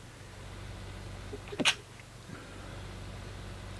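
A single short sneeze from a man with hay fever, sharp and fairly close, rising briefly over a steady low engine hum from farm machinery.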